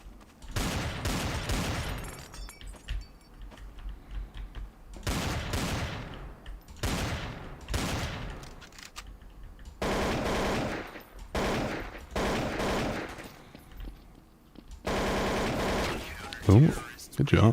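Rapid bursts of automatic gunfire in a one-on-one video game match, repeating in clusters with short gaps, with people talking between the volleys.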